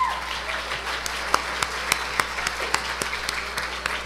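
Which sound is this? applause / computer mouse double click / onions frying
applause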